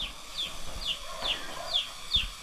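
Wild junglefowl (labuyo) clucking outdoors in a repeated series of about five short, sharp calls at a steady rhythm, fairly near and moderately loud over faint background noise.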